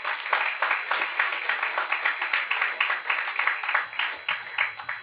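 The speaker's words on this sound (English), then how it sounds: "Why are you clapping for yourself now?" An audience claps for themselves, a dense, fairly even patter of many hands that continues throughout at moderate loudness.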